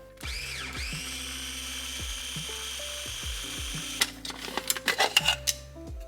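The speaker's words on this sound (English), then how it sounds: "Now that we finished pulsing the mushrooms, onions, and garlic" A small food processor pulses mushrooms, onions and garlic cloves with a steady, close motor whine that spins up at the start, then gives way to sharp clattering bursts near the end.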